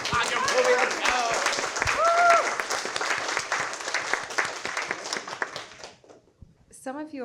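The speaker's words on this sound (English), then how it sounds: "Hey, applause! Let's go!" Audience at a game design panel breaks into sustained, fairly loud applause that fades out after several seconds, with a few voices calling out over the clapping.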